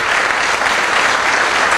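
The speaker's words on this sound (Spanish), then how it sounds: "se merece otro aplauso por el esfuerzo que hizo de estar aquí con nosotros" Conference audience applauding a guest at an anniversary lecture for Mexico's INEEL institute, steady dense clapping that fills the hall at an even, loud level throughout.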